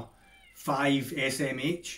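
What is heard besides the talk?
cat meowing outside the window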